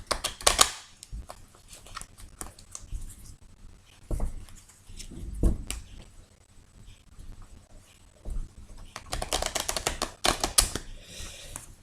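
Lenormand cards being shuffled by hand, heard as bursts of dry papery flicks and snaps separated by quieter pauses, close to the listener and without speech.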